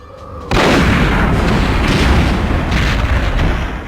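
A sudden loud boom as an object is destroyed in the video game Perfect Dark, followed by a sustained roaring blast that fades slowly over several seconds.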